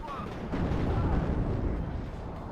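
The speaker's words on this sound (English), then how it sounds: "And there goes the auto cannon on it." An AMX-30's autocannon fires in Warno amid a dense rumble of battlefield explosions and gunfire, heavy and sustained, with a voice talking over it.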